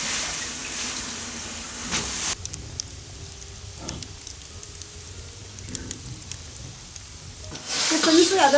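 Shiitake mushrooms hit a hot wok with salt in a home kitchen, giving a loud sizzle that drops to a softer frying hiss with scattered stirring clicks, then surges again near the end.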